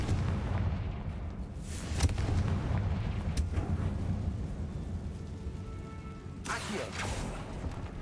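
A Confringo fire spell explodes in the video game Hogwarts Legacy, one sharp blast followed by a long rumbling roar and a second burst near the end, all under a steady low game score.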